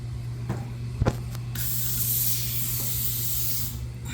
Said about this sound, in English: So let me try to spray that one up there.